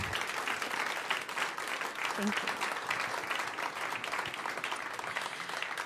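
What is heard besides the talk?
audience applause at jazz festival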